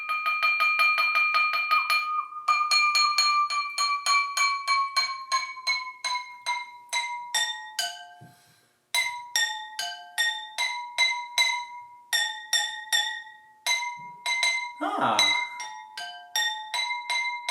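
Water-filled glasses struck one after another like a xylophone, ringing bright tones that step between pitches in a simple melody, each note decaying before the next.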